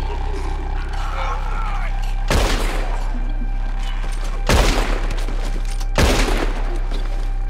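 Heavy gunfire volleys in the video game Red Dead Redemption 2 during a shootout, three loud, sharp bursts spaced a couple of seconds apart over a constant rumbling background.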